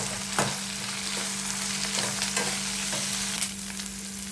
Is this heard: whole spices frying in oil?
yes